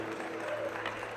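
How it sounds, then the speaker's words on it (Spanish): Church congregation giving a steady round of applause, dense continuous clapping filling the space with a faint voice beneath. "¿Cuánto le dan un fuerte aplauso a Jesús?"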